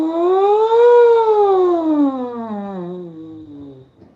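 Horn mouthpiece buzzed alone without the instrument, a close, full tone that swoops upward to a peak and then slides gradually down through lower pitches before fading out.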